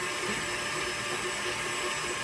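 A stand mixer fitted with a dough hook churns eggs and a little flour, giving a steady, loud motor whir with no pauses or voices.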